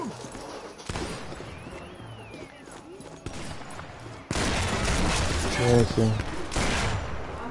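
Gunfire in a multiplayer shooter game, with scattered shots and bursts at moderate level and louder volleys toward the end, while players talk over it.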